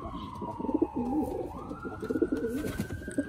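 Pigeons coo in a loft in soft, repeated throaty calls close by, with a steady high tone like a distant siren drifting underneath.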